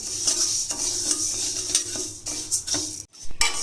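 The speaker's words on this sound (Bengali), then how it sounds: "কড়া গরম হয়ে গেছে দিয়ে দেবো ডাল মুগ ডালগুলো এটাকে হালকা ভেজে নেব" A spoon scrapes and clinks against a hot pan in repeated strokes while moong dal is lightly fried, with a soft sizzle underneath, close by and steady.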